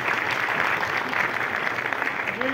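Audience applause at the Gandhar Gaurav award ceremony in Thane, a dense, sustained wash of many hands clapping throughout, fairly loud and even.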